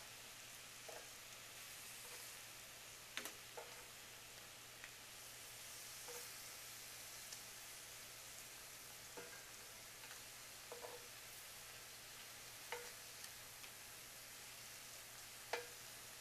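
Whitefish chunks sizzle and fry in hot oil while being stirred, a steady close hiss with occasional light scraping clicks from the stirring throughout.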